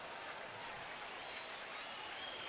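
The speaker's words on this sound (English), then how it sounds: "One of the first times tonight this crowd's had a chance to get into it." A baseball stadium crowd at a 2009 White Sox at Cleveland game cheers and applauds with a full count and two on, producing a steady, distant-sounding wash of clapping and crowd noise that holds throughout.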